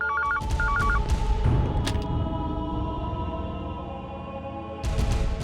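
Two quick bursts of electronic telephone ringing sound near the start over a low background hum, followed by muffled thumps.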